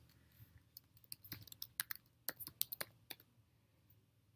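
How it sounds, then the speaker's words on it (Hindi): Fingers tap out a burst of quick, irregular clicks on a computer keyboard, close and fairly quiet, with short pauses between keystrokes and no speech. "Typing the local host."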